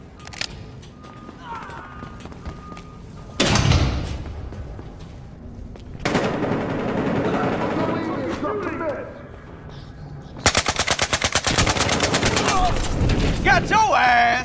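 Gunfire in the video game Battlefield Hardline: bursts of close shots, including a rapid automatic volley near the end, come amid loud combat noise while a player shouts over the action.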